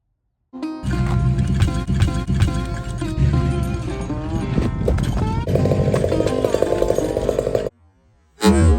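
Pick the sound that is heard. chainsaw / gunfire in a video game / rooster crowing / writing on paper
chainsaw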